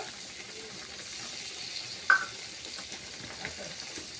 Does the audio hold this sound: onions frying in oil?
yes